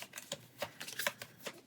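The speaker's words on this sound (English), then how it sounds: "We'll take this one and shuffle that into your deck." Cards shuffled into a deck during a Pathfinder Adventure Card Game playthrough, a quiet run of soft, quick riffling flicks and taps close by, with no talk.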